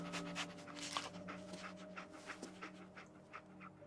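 In Fallout 4, the companion dog pants in quick rhythmic breaths with snuffling sniffs, close and soft over a faint steady background hum.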